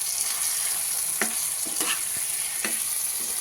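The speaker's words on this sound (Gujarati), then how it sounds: "આપણા ડુંગળી બટેટા એકદમ ફ્રાય થઈ ગયા છે ને સરસ મિક્સ થઈ ગયા છે" Onions and potatoes for poha fry in oil with turmeric and spices, giving a steady sizzle with a few scraping stirs of a spoon in the pan.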